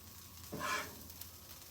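A brief burst of sizzling rises and fades over a quiet background hum as steak hits a layer of cheese on a hot griddle.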